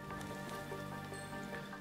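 Rain falls steadily in the walking game Shape of the World, a soft continuous patter of drops over a calm sustained tonal ambient drone.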